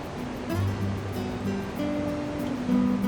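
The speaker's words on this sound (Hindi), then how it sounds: "ये है गीरा वाटरफॉल।" Gira waterfall near Saputara during the monsoon, a steady roar of falling water heard up close and alone, with a continuous broadband wash and faint low tonal hum throughout.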